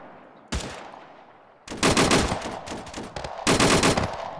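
Gunfire in the ARMA 3 video game on Chernarus: a single sharp shot, then two long, loud automatic bursts echoing out, with quieter pops between them.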